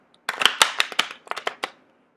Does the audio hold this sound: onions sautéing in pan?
no